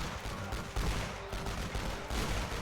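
In the video game The Great War: Western Front, dense gunfire pours onto troops as a dense, continuous crackle of rifle and machine-gun shots with heavy low rumble. The sound is loud and constant throughout.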